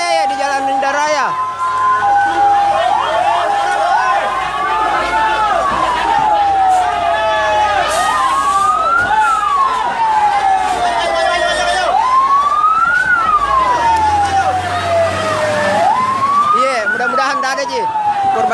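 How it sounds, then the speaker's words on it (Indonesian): Wailing fire engine sirens from mini fire trucks arrive at a house fire on Jalan Sehat in Pannampu, Makassar, rising and falling repeatedly and loudly over a busy crowd murmur, with traffic rumbling beneath. "4 mini damkar ya yang datang."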